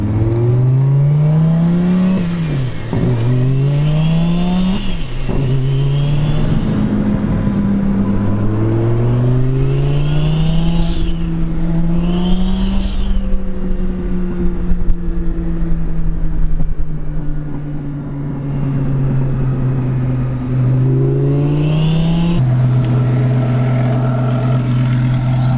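A Lamborghini with a twin-turbo engine being tuned for boost revs repeatedly at night. Its loud, close engine note rises and falls through several revs, then holds a steady higher idle before dropping back, with no talking.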